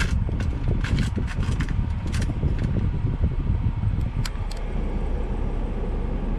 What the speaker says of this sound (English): The blower feels like a tornado. Yeah, I'll put it to 4.